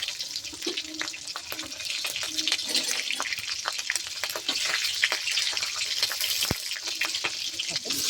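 Cumin, curry leaves and green chillies sizzle and crackle in hot oil, a steady frying hiss with scattered pops throughout.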